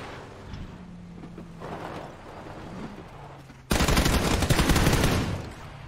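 Gunfire in a video game, aimed at a vehicle. It starts with faint, scattered shots under engine hum, then a sudden loud burst of rapid automatic fire near the end.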